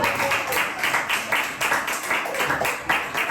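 Audience applause at a book presentation: steady, moderately faint clapping from many hands, rippling continuously without a break.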